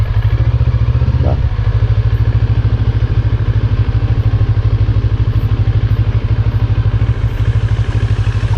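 A heavy NK400 motorcycle rolls slowly along a rocky road in Batangas, its engine giving a steady, close, rhythmic thrum with faint clattering throughout.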